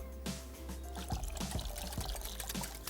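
Water poured into a dish while cooking, a close liquid splashing and trickling with a few distinct glugs and drips, fairly quiet and with no talk.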